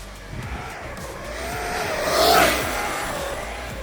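A fast RC car at around 52 mph on tyres struggling with the speed, its high electric whine and tyre noise rising to a close pass near the middle and then easing off, with no talk.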